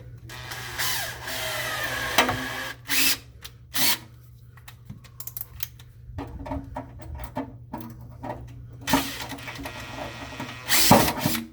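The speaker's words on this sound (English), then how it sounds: "I'm gonna just drill through the top" A power drill runs in short, loud bursts with brief pauses between, close by, boring through the top of a bracket while installing AWD conversion brackets on an EM2, with no voices.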